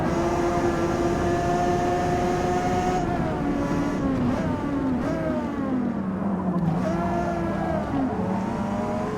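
A race car engine in Forza Motorsport howls continuously at high revs, pitch dropping and climbing through gear changes and corners, loud and close, with no talk over it.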